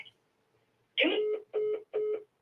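Phone call-failure tones: three loud, evenly spaced electronic beeps, each about a third of a second long, sounding clearly with no talk over them.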